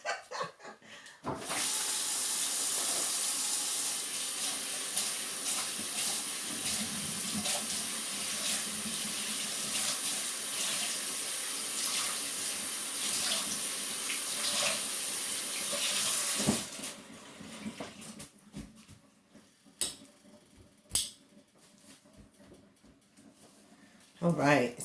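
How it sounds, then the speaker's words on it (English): Vegetable rinsed under a running kitchen tap, a loud steady rush of water into the sink for about fifteen seconds, then stopping, followed by quieter handling sounds while someone talks. "I'm going to thoroughly rinse it, because if there's anything on here, it's not going to live once I put it in this hot pan"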